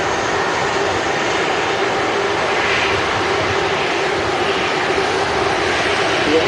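An Air Canada Airbus A330 jet taxis straight past at Manchester Airport, a steady, moderately loud engine hum and whine that stays even throughout, with no clear voices over it.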